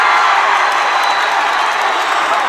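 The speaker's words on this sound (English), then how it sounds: "And a lively crowd erupts" A packed gym crowd at a high school boys' basketball game between Vista and Thunder Ridge roars with loud, sustained cheering and applause, a dense wall of voices that stays steady throughout.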